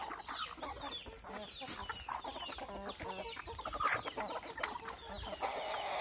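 A flock of farm poultry squabbles over chopped banana stem feed, with busy overlapping clucks, squawks and brief scuffles, constant and close, and no voices.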